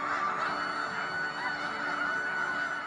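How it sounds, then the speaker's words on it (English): Migrating geese and other waterfowl honk continuously in Sacramento Valley wetlands and flooded rice fields, a dense chorus of overlapping calls that forms a steady, fairly distant wash of sound. No one speaks. "Every winter, millions of migrating birds flock to the Sacramento Valley."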